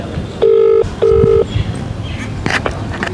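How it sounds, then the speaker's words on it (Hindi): Two steady ringback tones sound over a phone speaker, each lasting under half a second, followed by faint background noise and brief rustling. "फ़ोन करो आप उसको ठीक है, कॉल करो और स्पीकर पर डाल देना"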